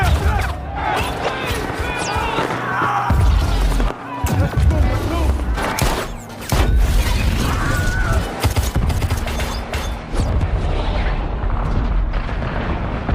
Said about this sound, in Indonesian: Ledakan dan tembakan saling bersahutan, menghancurkan kota dalam sekejap.